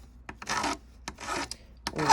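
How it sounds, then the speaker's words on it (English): A hand file rasps across the cap of a multi-strand copper wire bracelet in short, close strokes, about five or six scraping passes in an uneven rhythm with brief pauses between them and no talking. "So you can use a file to do this"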